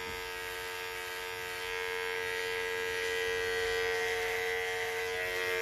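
Electric hair clipper running close by, giving a steady unbroken buzzing hum that grows slightly louder partway through and holds with no talk over it.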